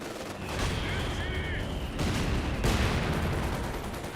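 MG42 machine gun fire in the Company of Heroes 2 video game rattles in sustained bursts amid other battle gunfire, loud and dense, with a commentator's voice running over it.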